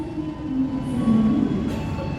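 An Argo Wilis or Madiun Jaya passenger train rolls into a station, a steady low rumble of wheels and carriages with a sustained tonal drone and faint squeals, moderately close and continuous.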